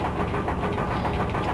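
An airship engine from the video game Final Fantasy 9 hums steadily near a volcano, a loud, continuous mechanical drone with a faint rhythmic pulse and no talking.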